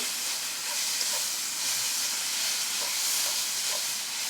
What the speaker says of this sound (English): If you're using a wok, keep it moving and grooving, okay?